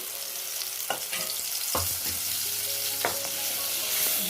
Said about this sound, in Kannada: ಈಗ ನಾವು ಡ್ರೈ ಮಸಾಲ ಮಿಕ್ಸ್ ಮಾಡಿಟ್ಕೊಂಡಿದ್ವಲ್ಲ, ಅದನ್ನು ಇದಕ್ಕೆ ಸೇರಿಸ್ತಾ ಇದ್ದೀನಿ